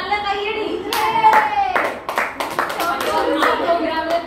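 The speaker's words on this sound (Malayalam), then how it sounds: "ഒരു നല്ല കയ്യടി" A crowd at a stage program claps in a quick, scattered burst of hand claps that swells and then fades unevenly, with a voice faintly present alongside.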